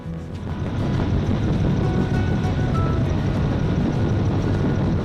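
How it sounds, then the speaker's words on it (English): A helicopter delivers logs for salmon habitat restoration, its loud, steady rotor and engine roar swelling in over the first second and then holding, with no talking. "We are fortunate to be able to be using this helicopter to deliver the logs really close to where their final resting place will be"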